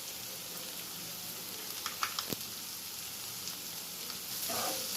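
Vegetables for veg fried rice hiss and crackle in a hot pan while Schezwan sauce is mixed in, with a continuous sizzle broken by a few short scraping stir strokes.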